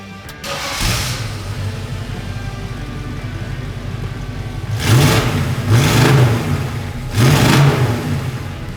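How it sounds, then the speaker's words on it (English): A 1966 Chevrolet Nova SS 350 Pro-Touring V8 idles with a deep rumble, then is revved hard three times in a row, each blip rising loud and close before settling back. "let's see how this beautiful box Nova sounds, right?"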